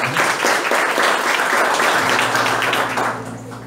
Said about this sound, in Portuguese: Aplauda a palavra do Senhor para nós.